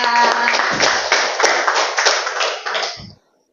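Classroom of pupils clapping for a classmate, a loud, close round of hand claps with a faint sung or spoken voice at the start, fading out sharply after about three seconds.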